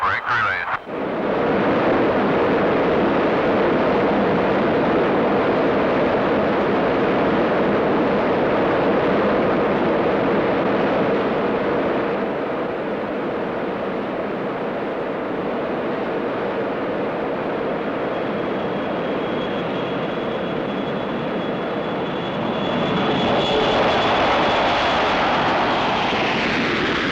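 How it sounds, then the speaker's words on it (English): A North American XB-70A Valkyrie jet bomber on its takeoff run, with a loud, continuous, broadband jet roar that holds steady for nearly half a minute and swells again near the end. "Wind calm, clear for takeoff."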